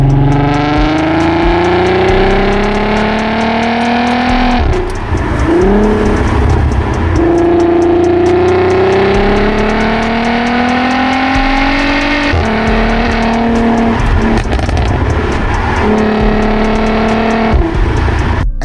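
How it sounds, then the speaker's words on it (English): A Volkswagen VR6 engine revs loudly and continuously, its pitch sweeping up through the gears with brief dips at each shift, heard close with a rich droning tone. "that VR6 sound is why you really want one"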